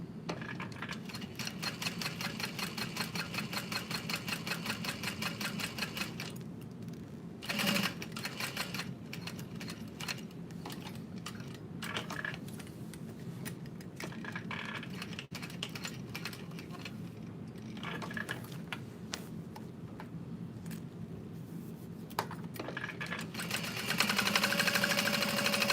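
Domestic sewing machine stitching a small fabric bag, a steady fast mechanical whir with rapid needle ticks, pausing briefly and resuming several times, close and moderately quiet.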